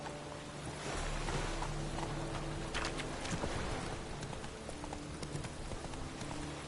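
Roach the horse gallops in The Witcher 3, hooves drumming in a continuous quick rhythm over a dense, rain-like wash of background noise that stays fairly even throughout.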